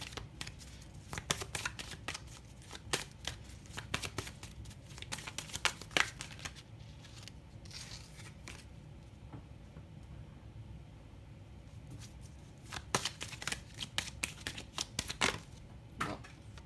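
Oracle cards being shuffled by hand, a run of crisp riffling clicks and flutters in bursts with a pause midway, close and fairly quiet.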